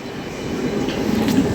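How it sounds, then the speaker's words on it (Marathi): A train rolls past on the tracks near Dadar in Mumbai, a steady close rumble that swells slightly toward the end, with no talking. "ट्रेन चालली"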